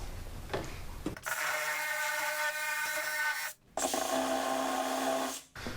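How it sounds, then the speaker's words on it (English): Step drill bit boring out and enlarging holes in a carbon fiber hood for a hood latch kit, a loud steady whirring grind in two long bursts separated by a brief pause, with no talking. "I'm gonna use a step drill bit, and I'm gonna go up to 7/8"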